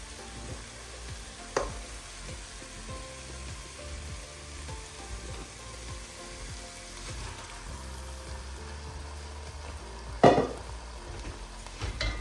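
Urad dal tipped into an oil-separated masala and stirred over medium-high heat in an Instant Pot, giving a quiet continuous sizzle with a couple of brief utensil knocks against the pot.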